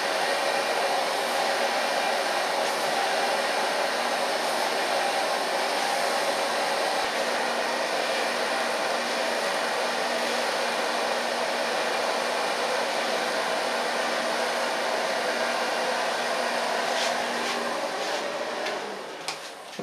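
A blow dryer roars steadily and loudly for the whole stretch while heat-styling waxed hair, a constant breathy whoosh that tapers slightly at the very end.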